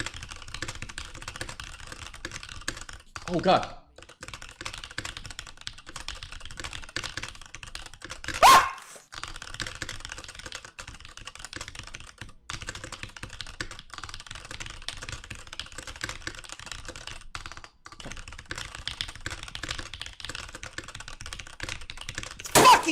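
Rapid, continuous clatter of computer keyboard keys during an online typing race, close and steady for the whole stretch, with a few brief louder bumps, a dog barking now and then, and a short muttered exclamation.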